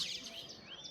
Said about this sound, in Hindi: इतनी चिड़िया बैठी हैं छत पे।